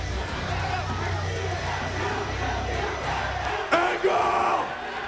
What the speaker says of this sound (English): They're chanting in unison at Samoa Joe